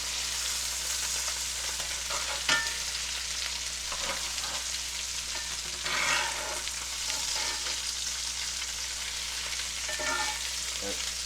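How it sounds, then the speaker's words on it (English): Salisbury steak patties sizzling in a pan right after being flipped: a steady, close, hissing fry with a few brief scraping bursts from a utensil. "So we're gonna go ahead and flip our patties"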